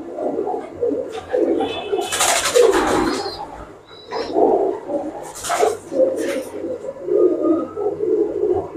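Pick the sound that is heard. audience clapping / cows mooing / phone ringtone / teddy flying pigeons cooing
teddy flying pigeons cooing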